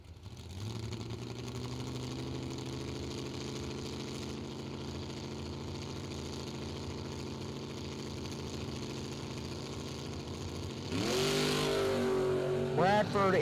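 An idling drag-race engine drones steadily at a strip, a low rumbling hum heard from a distance, then revs sharply and loudly near the end as a Ford Mustang launches.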